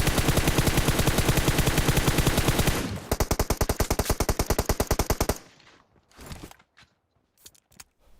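Rapid automatic gunfire from a hillside in PUBG Mobile, a loud dense burst of shots followed by a second slightly slower volley, then scattered quieter shots and faint clicks.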